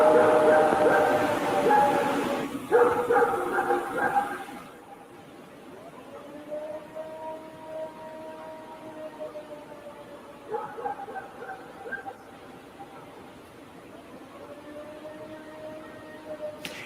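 A played-back recording of a howl attributed to Bigfoot in Oregon: long, wavering, siren-like tones that rise and fall. They follow a burst of noise, recur at moderate distance over steady background hiss, and are fairly faint.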